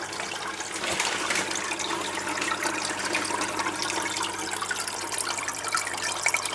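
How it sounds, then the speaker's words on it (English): Steady splashing and burbling of water moving at the surface of a goldfish tank, continuous and fairly close, with no voices over it. "I shall demonstrate the surface movement of the water in the tank"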